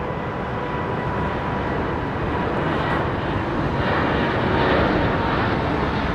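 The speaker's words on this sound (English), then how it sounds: "This aircraft is reversing." Steady broadband jet engine roar from an aircraft reversing at London Heathrow Airport, a continuous loud rumble and hiss that swells slightly toward the end with no pauses.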